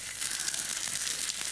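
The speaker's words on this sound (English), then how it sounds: "that's what I want to hear, the sizzling" Prawns sizzle in a hot pan, a steady, dense hiss of frying crackle with no pauses, close and moderately loud, with no talking.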